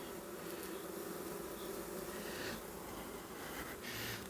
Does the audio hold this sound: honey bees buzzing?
yes